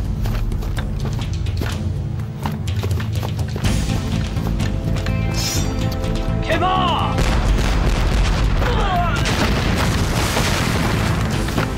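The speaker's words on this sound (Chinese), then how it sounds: "开炮！" Artillery cannons fire in a war film battle scene, heavy booms and blasts following one another over a dense, continuous roar of combat, with faint voices buried in the din.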